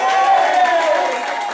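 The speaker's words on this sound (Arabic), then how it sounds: "نحب تصفيق كبير على خنيف سبان" A studio audience on a Tunisian Ramadan TV show applauds loudly, with dense clapping and cheering that slowly tapers, and voices mixed into the crowd noise.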